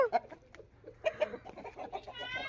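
Chickens cluck softly in short, scattered bursts nearby, with faint rustling in the background and no talking.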